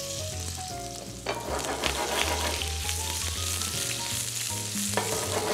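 Onion and garlic frying in a pan for a sautéed chicken dish, a dense continuous sizzle with occasional stirring scrapes, close and steady throughout, with faint music underneath.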